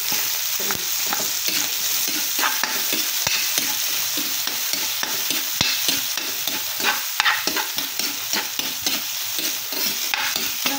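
Garlic, ginger and onion sautéing in a pan, a continuous hiss of frying broken by frequent rhythmic scrapes and clacks of a utensil stirring, close and fairly loud with no talk.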